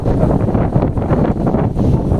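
Strong wind roars and buffets the microphone in a steady, loud, low rumble with no other sound.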